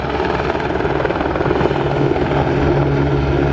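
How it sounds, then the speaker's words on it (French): A rescue helicopter hovers near an airport where hypercars are being driven, its rotor and engine making a loud, steady, close whirring drone that holds throughout without talk. "L'hélico des secours"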